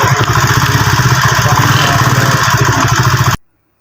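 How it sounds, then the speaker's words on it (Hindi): A motorbike engine runs at idle with a loud, steady, throbbing putter close by, then cuts off abruptly near the end. "चलो हम बाइक स्टार्ट करते हैं।"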